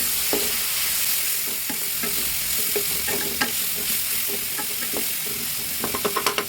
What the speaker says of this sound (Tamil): கூடவே 2 பச்சை மிளகாய் அதையும் சேர்த்து நல்லா வதக்கிடுவோம்